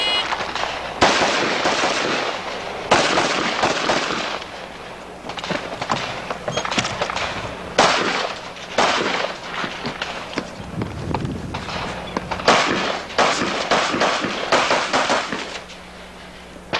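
Rifle shots ring out on a stage at a shooting competition, with a string of sharp, loud reports in rapid uneven bursts and brief pauses between groups. The shots are close and dominate, with outdoor noise between them.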